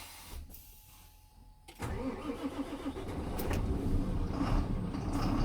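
A truck engine cranks and fires up during a heavy-vehicle driving test check, the start arriving abruptly after a quiet moment and settling into a steady, close idle rumble that grows slightly louder.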